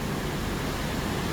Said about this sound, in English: of the waterfall noise